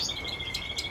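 Himalayan goldfinches chirping, a few short bright tweets over a steady high-pitched background hum, close and moderately loud with no talking.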